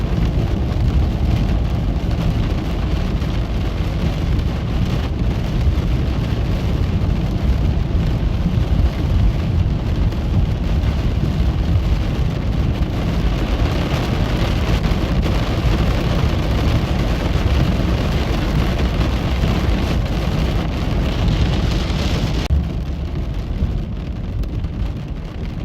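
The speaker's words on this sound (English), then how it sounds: "I believe we're now just in front of the storm here." A heavy thunderstorm in western Nebraska, with loud, dense rain drumming and deep rumbling thunder rolling continuously, probably heard from inside a vehicle, with the low roar steady throughout and easing slightly near the end.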